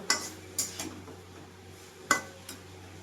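Bottle gourd greens and shrimp being stirred and sautéed in a pan, with a few sharp utensil clinks against the metal spaced across a quiet low hum, no sizzle standing out.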